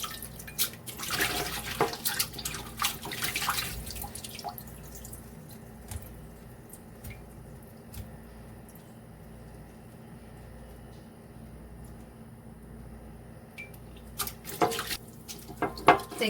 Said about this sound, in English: I have some fresh spring water here, and I'm going to rinse it off one more time